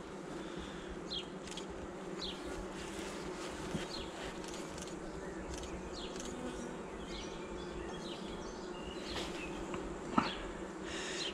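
Honeybees buzz steadily nearby beneath a hive in April, with individual bees zipping past now and then over a constant hum.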